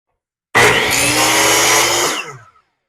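Miter saw (chop saw) blade spinning up and cutting through wood, a single loud, steady whine for about one and a half seconds, then winding down as the blade coasts to a stop.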